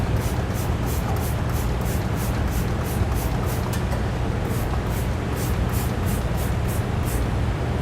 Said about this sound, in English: Spray both of our elbows down really well.